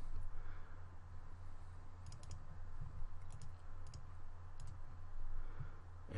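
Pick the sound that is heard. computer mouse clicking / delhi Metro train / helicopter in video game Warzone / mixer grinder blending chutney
computer mouse clicking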